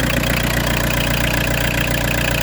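PSA XUD diesel engine fitted with an inline 4M injection pump idling steadily and loud up close, a continuous rumbling drone with knocking texture and no voices over it.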